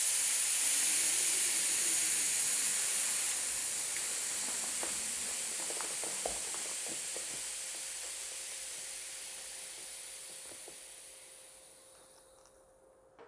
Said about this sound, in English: push down on the Schroeder valve inside the valve stem to release any air pressure from the inner tube